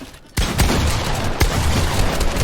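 Rapid bursts of weapon fire from a Fortnite box fight, a dense, loud volley starting abruptly after a brief quiet moment, with a few sharper shots standing out amid continuous clattering gunfire and no speech.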